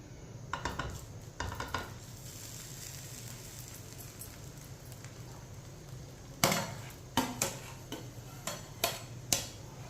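Rice being stirred into hot sugar syrup in a pot over a low flame for sweet zarda rice, with soft scraping and a few louder clinks and knocks near the end, close and alone.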